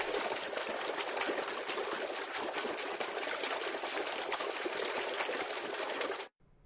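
Water trickles steadily in an RPG game scene, as though someone nearby is washing something, a continuous close hiss that runs unbroken and then cuts off abruptly at the end.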